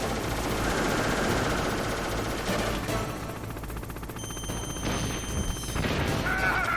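Gunfire in the PlayStation game Metal Gear Solid crackles as bursts and single shots over game ambience, steady at first, then thinning in the middle before picking up again with some electronic tones.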